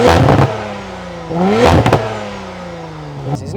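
An Audi RS4 with the RS sports exhaust accelerates hard in two rising surges, the engine note climbing and breaking off at each gear change, close and loud.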